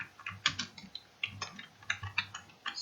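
Keystrokes on a computer keyboard while typing a cash memo table in MS Word, in a quiet room: irregular bursts of close, crisp clicks with short pauses between words.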